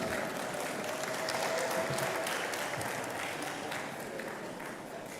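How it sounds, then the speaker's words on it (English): Steady, broad applause from a graduation ceremony audience at a business school as the keynote speaker walks on stage, continuous even clapping that slowly eases in loudness. "A round of applause as she comes on stage."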